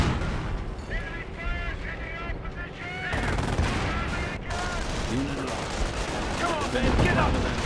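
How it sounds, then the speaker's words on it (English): Rifle squads trading fire in the World War II strategy game Company of Heroes, a steady rattle of gunshots and distant booms layered under continuous commentary from a caster. "Rifle squads engaging."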